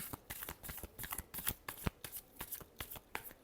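Tarot cards shuffled by hand up close, a quick rhythmic run of crisp riffling flicks and soft slaps repeating steadily and quietly.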